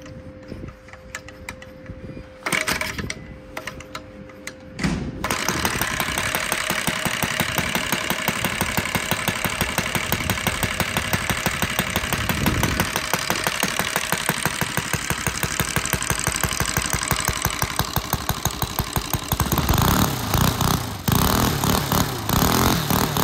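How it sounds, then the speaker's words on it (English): An NGH GF-38 model engine starts after a few quiet seconds, then runs at a steady, loud, rapid idle with even ticking pulses that build slightly toward the end. "I'm gonna attempt to start the engine."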